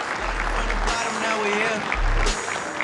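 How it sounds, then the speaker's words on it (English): An audience applauding a speaker at a conference session, clapping heard under a steady hum, with bursts of a loud low drone at the start and end and a voice mixed in. "If y'all could please clap your hands and give it up for Mr."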